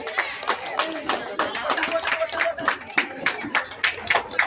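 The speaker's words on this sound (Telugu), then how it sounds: "క్లాప్స్ కొట్టాలి అందరూ." Rhythmic hand claps from an audience at a campus Ganesh festival event greet a team, close and steady, mixed with an announcer's talk and crowd voices.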